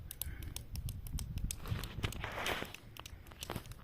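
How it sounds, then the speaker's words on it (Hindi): Footsteps inside a dark house, a steady patter of crunchy, close steps that continues throughout, with no one speaking. "लगातार आवाज़ आ रही है, पैरों की आवाज़ आ रही है,"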